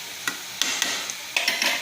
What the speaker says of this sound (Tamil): அதுலேருந்து தண்ணி கொஞ்சம் விட்டு கொதிக்க ஆரம்பிச்சிருக்கு